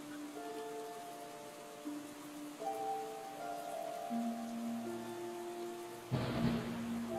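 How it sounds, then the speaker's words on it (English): Soft steady rain falls as a faint hiss beneath sustained ambient musical tones during a Lord of the Rings tabletop game session, with a brief louder rumble near the end. "It's raining."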